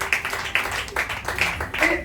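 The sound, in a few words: congregation applauding Jesus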